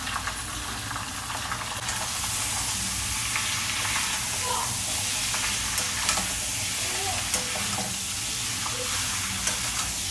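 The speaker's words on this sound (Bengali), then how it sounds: "এখন আমি এই চিকেনটা দিয়ে দেব।" Marinated chicken frying in a pan, a dense steady sizzle with soft scrapes and knocks of a spatula stirring through it, close and continuous; no talking.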